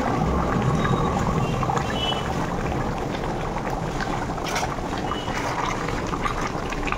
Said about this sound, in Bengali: অল্প করে ফুটছে